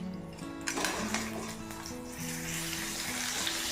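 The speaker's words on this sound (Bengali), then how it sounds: "এখানে বেগুন ভাজা বসিয়েছি" Eggplant slices fry in a pan with a close, steady sizzle and crackle, while sustained tonal sounds hum underneath.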